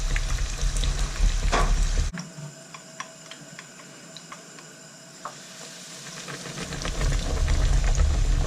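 Pork tonkatsu cutlets fry in hot oil with a steady crackling sizzle, broken by a sharp clatter midway before the bubbling fry noise swells again toward the end.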